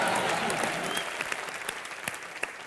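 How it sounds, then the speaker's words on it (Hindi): Loud applause from a studio audience on a Hindi entertainment talk show, dense steady clapping that fills the clip and tapers slightly toward the end, with a few sharper claps standing out. "जोरदार तालियां।"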